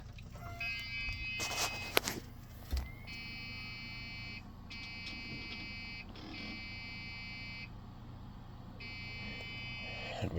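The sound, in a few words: Dell Dimension 3000 computer beeping on power-up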